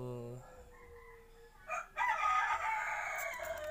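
A red rooster crows once nearby, a loud strained call following a few faint tones, with quiet background noise around it.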